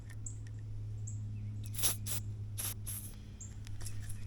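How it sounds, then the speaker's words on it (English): A few short, sharp hisses of silicone spray onto rubber gaskets of a home sprinkler system burst out over a low steady hum, spaced irregularly. "hit these rubber gaskets with silicone spray"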